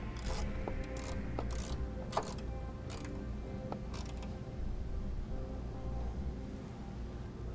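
A nut is tightened with a wrench during a trailer brake controller installation, giving a series of sharp, irregular ratcheting clicks over a steady low hum in the background.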